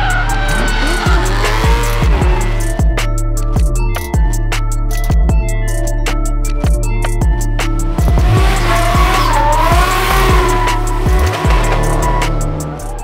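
Drift cars at a motorsport event run flat out, engines screaming loud and close with repeated gear shifts and long tire squeals as they slide past.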